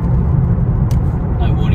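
Audi A5 2.0 TDI S Line Cabriolet from 2018 driving along a country road, with a steady low engine and road rumble throughout and someone talking over it.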